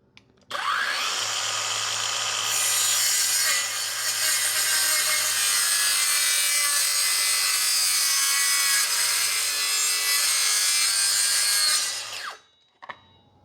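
A Hanabi brushless battery circular saw rips through wood in one long, loud, continuous cut, its high whine steady throughout before winding down abruptly and falling silent.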